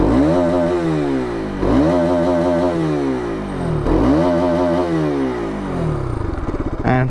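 A Bajaj Pulsar RS200 BS7 motorcycle is revved hard three times in a row, each burst climbing high and then falling back to a steady idle, loud and close. A rattling idle follows at the end.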